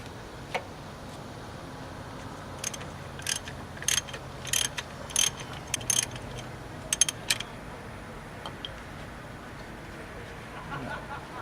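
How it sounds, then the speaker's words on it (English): A ratchet clicks in quick bursts while a 27mm socket loosens an oil sending unit on a Jeep, the sharp ticks close and fairly quiet over low background hiss. "at that point, ratchet it off"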